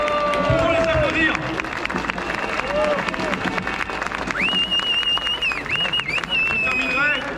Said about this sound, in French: Pour les applaudir.